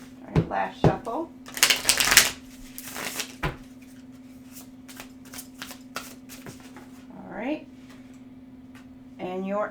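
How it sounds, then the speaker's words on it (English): Tarot cards are shuffled by hand in several quick riffling bursts, with a few sharp taps between them. Quieter handling sounds follow, along with brief vocal sounds. "All right, last shuffle."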